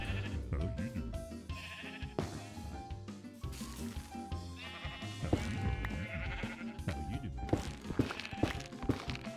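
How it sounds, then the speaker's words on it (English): Sheep bleat repeatedly in a Minecraft-style video game over dense, continuous game sound, the nasal calls rising and falling amid footsteps and thuds. "I'm about to come through and name tag all them sheep"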